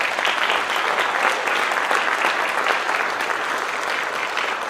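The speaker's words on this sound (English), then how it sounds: "Can we give another round of applause for all of the students?" Sustained round of applause from an audience honoring students at a top 5% celebration, dense and steady throughout without pause.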